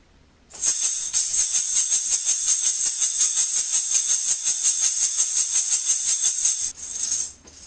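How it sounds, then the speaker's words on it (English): A chocalho shaker plays a steady, fast stream of even sixteenth-note pulses, bright and hissy, for several seconds before stopping abruptly. "So this instrument, it's called the chocalho"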